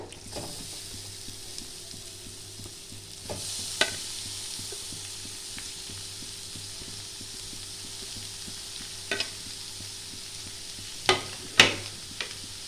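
Carrot and beetroot are stirred in a sizzling pan of frying vegetables, a steady close-up sizzle broken by a few sharp scrapes and clinks of the spoon against the pan.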